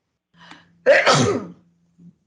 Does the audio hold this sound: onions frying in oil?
no